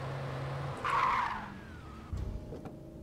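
A Pontiac car in the game Alan Wake skids with a loud, drawn-out tire squeal over a low engine rumble, followed by a few thuds as it keeps driving.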